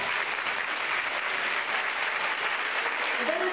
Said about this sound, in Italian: forse è il caso che anche noi facciamo un applauso a voi.